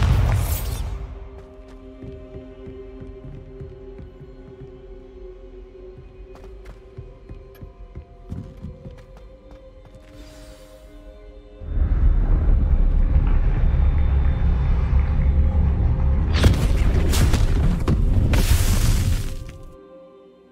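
A Bombarda explosion spell goes off in the Hogwarts Legacy video game: a loud, sustained blast and rumbling roar follows a quieter stretch, then dies out at the end.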